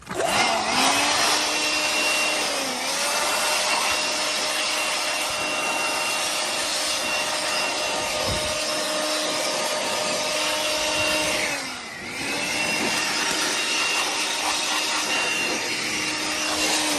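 Compressed air blasts debris out of an AC condenser's coils, a loud steady hiss running almost without break, dipping briefly midway before resuming at full strength.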